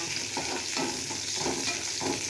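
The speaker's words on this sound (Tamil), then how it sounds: "வெங்காயம் கருவேப்பிலை எல்லாம் போட்டு வெங்காயம் நல்லா வேகட்டும்" Onions and curry leaves sizzle in hot oil in a pan for a potato and cabbage stir-fry, a dense, loud, close crackling hiss with soft rhythmic stirring beneath it.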